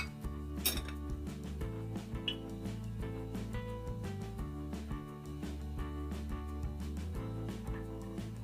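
Homemade cough syrup of lemon juice and honey being stirred makes repeated clinking of a spoon against a glass or dish, rhythmic and close, over a steady musical background.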